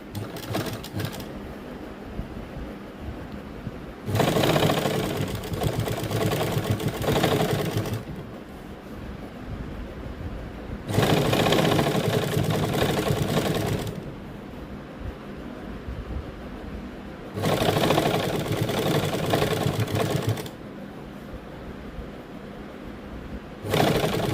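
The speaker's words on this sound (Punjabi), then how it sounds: "ਇਸ ਤਰੀਕੇ ਨਾਲ ਤੇ ਆਪਾਂ ਕੱਪੜੇ ਦੇ ਉੱਪਰ ਸਲਾਈ ਲਾ ਦਾਂਗੇ ਇਸ ਪੱਟੀ ਦੇ ਉੱਪਰ" Sewing machine stitching a fabric strip onto a salwar sleeve to lengthen it, three loud bursts of rapid mechanical whirring separated by quieter pauses, close and steady.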